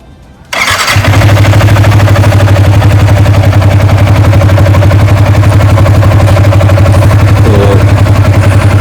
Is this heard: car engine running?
yes